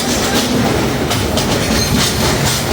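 A loud train rolls along the rails with a steady roar and rhythmic clickety-clack from the wheels, close up and continuous.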